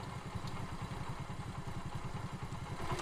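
Motorcycle engine running close by with a steady, low, rhythmic thumping throughout, no voices over it.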